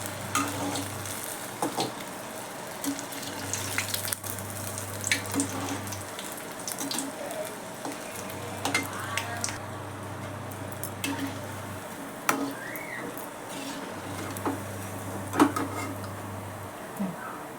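Karanda leaf vadis fry in oil over a low gas flame, giving a steady soft sizzle. A low hum rises and falls beneath it at intervals, and there are occasional light clinks and stirring sounds.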